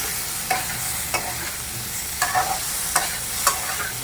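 A spatula stirs sponge gourd and mixed vegetables in a hot pan over a steady low sizzle, with five or six distinct scraping strokes spaced irregularly about half a second to a second apart.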